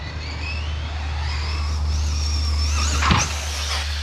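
A radio-controlled car's electric motor whining at high pitch with rising and falling tone, over a steady low hum, followed by a brief sharp scrape or impact near the end.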